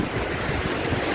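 Ocean surf on a Goa beach in India roars steadily and loudly, mixed with heavy wind buffeting close to the microphone, with no speech.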